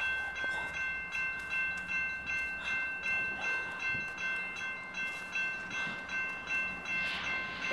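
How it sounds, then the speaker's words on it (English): A train rolls past nearby in a park, with a rhythmic clickety-clack of wheels over rail joints repeating steadily and a faint high tonal whine above it, no voices. "That's it, that's the train."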